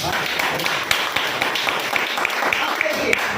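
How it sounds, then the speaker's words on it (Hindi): Audience clapping in a meeting hall, a dense, steady patter of many hands with a few sharper individual claps, with a voice speaking over it. "तालियां तो होनी चाहिए।"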